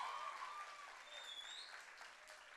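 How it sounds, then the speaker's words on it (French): An audience applauds after a dance performance at a gala: steady, fairly distant clapping with a few cheers or whistles rising above it, and a voice faintly audible underneath. "On les applaudit encore bien fort pour cette première prestation."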